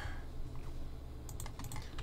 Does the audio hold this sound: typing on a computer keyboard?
yes